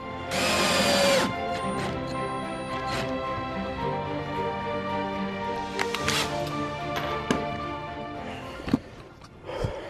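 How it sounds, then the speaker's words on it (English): A power drill driving and countersinking screws into a wooden toddler bed, with a sustained whirring motor that starts loud and then runs steadily, followed by a few short clunks near the end. "I will drill and then countersink and then drop in some screws in each one of these"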